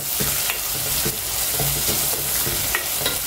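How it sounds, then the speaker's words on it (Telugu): Onions, garlic, mustard seeds and cumin frying in hot ghee, a loud, close, continuous sizzle with irregular crackles and pops and the occasional stir, with no talking. "ఇక్కడ గీ వేడైంది కదా, కొద్దిగా ఆవాలు, కొద్దిగా జీలకర్ర, ఆనియన్స్ ఇప్పుడు వేసుకుందాము."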